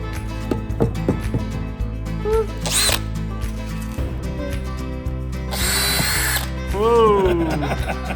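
A power drill drives screws into a wooden nesting box for Australian birds, with several short whirring bursts of rising and falling pitch over a steady hum, and people talk nearby.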